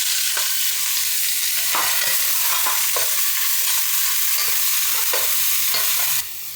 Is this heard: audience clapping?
no